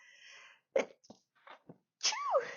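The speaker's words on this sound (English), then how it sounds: "I'm going to sneeze right now." A single close sneeze bursts out after a few quiet breaths and small sounds, followed by a short voiced exhale.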